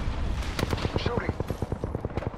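Rapid automatic gunfire in the Apex Legends video game, a close burst of evenly spaced sharp shots in quick succession, with a few faint game sound effects mixed in.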